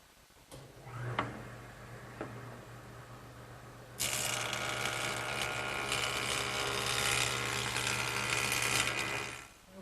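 A woodworking jointer planing the edge of a board straight: small knocks and motor hum at first, then a sustained loud broadband cutting roar for about six seconds as the board passes the cutterhead, ending abruptly with no voices.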